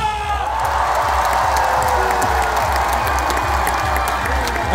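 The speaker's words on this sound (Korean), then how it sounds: "다 같이 박수와 함성!" Outdoor festival crowd of a Korean local beef and apple fair cheering and applauding on cue, a loud continuous roar of voices and clapping over thumping low stage music.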